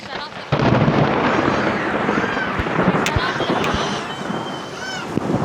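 Deep rumbling thunder rolls under steady pouring rain, with scattered sharper cracks and a voice talking over it.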